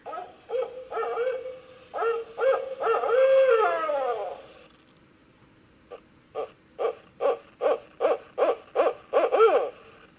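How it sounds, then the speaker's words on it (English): A barred owl hoots in a rhythmic series of loud, clear calls, a long rolling phrase first, then a quick run of evenly spaced hoots after a short pause. "that is a barred owl"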